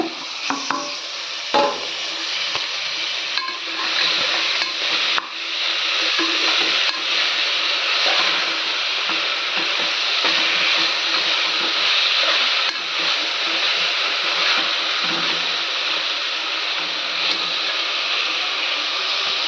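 Masala frying in a pan with tomato, coriander and green chilli for ridge gourd kootu: a loud, continuous close-up sizzle with occasional stirring scrapes and clinks, no talking.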